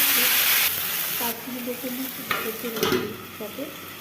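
Taro leaves and dried fish stirred together in a pan, a loud sizzle at first that settles into softer frying with scraping stirs, and a voice talking faintly underneath.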